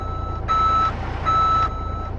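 A truck reverses to hook up a trailer load in Euro Truck Simulator 2, its reversing alarm sounding two steady beeps over a low engine idle, with no talking.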